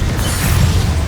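Confringo explosion spell going off in Hogwarts Legacy, a short, loud, rumbling boom that fills the whole second with heavy low-end roar and no pause.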